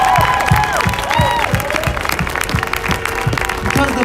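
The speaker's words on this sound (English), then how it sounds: "So I want everybody to give yourselves a round of applause" A crowd at a justice rally in Minneapolis after the Derek Chauvin verdict bursts into loud applause with scattered cheers and whistles, dense clapping continuing steadily throughout.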